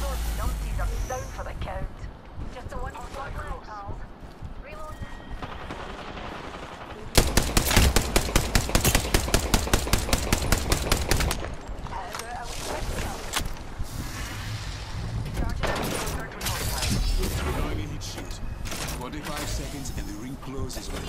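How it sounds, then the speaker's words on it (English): Rapid automatic gunfire in an Apex Legends ranked match, a long sustained burst of evenly spaced shots in the middle amid scattered nearby shots and footsteps, with a voice talking throughout. "They're shooting at me."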